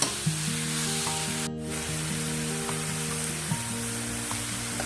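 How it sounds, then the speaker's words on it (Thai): Minced pork is stir-fried for northern Thai larb, giving a loud, steady sizzle close by with a short burst of scraping from stirring partway through. "ตอนนี้ก็คั่วมาสุกแล้วนะคะเพื่อนๆ"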